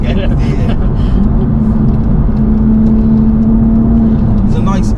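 A tuned 420 bhp Toyota Supra at Stage 1 drives along with a steady, loud engine and induction drone, a faint rising whine running under continuous road noise from inside the car, while a person talks over it.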